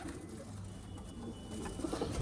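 A black-and-white female pigeon gives low, muffled coos near the end, set against a steady background hiss.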